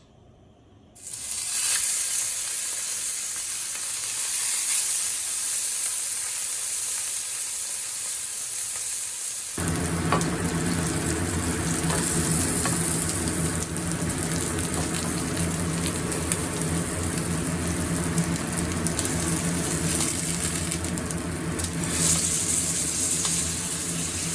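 A5 Olive Wagyu steak sears in a dry pan with no oil: a sudden loud sizzle starts after a second of quiet, swells and keeps hissing steadily up close, with no talking.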